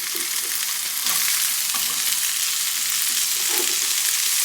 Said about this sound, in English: I'm going to start adding my ham. And I'm just going to cook it for a few minutes until it gets brown.